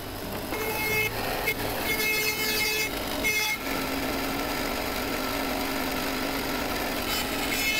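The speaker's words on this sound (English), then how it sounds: "The easiest way to clean them up was to pass the pieces through the bandsaw and cut away the uneven" A bandsaw cuts uneven edges off wooden pieces, a steady close whining buzz with rough rasping bursts as the blade bites through the wood, easing into a smoother hum.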